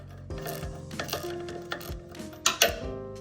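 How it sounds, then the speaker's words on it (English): Ratchet wrench loosening the oil drain plug on a pressure washer engine, a close series of quick metallic clicks in short uneven bursts, with sharper clanks near the end and no talk. "I'm gonna take my ratchet. We're gonna loosen it up a little bit more."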